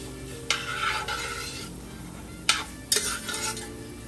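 Vegetables with garlic stirred in a hot pan, close metal-on-pan scrapes in short bursts over a soft steady sizzle, no voices.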